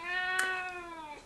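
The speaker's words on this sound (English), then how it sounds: "If you hear meowing, that is Lexi." Lexi, a pet cat, lets out a single drawn-out, tonal meow, fairly soft and close, with no other sounds around it.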